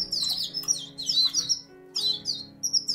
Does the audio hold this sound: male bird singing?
yes